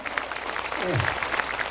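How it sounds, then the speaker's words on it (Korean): Applause from the assembly at a Buddhist precepts and closing dharma ceremony at Beopjusa temple, a dense steady clapping sustained through the whole moment at moderate level, with a brief low voice sliding in the middle. "다시 한번 깊은 감사의 마음으로 우리와 같은 박수를 부탁드리겠습니다"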